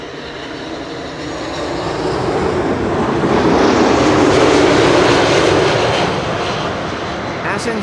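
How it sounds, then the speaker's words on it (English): KLM Airbus A330-300 jet arriving at Schiphol on the Kaagbaan runway, a broad engine roar that swells to a peak midway and then fades as the aircraft passes. "KLM flight 676 arriving from Edmonton, Canada."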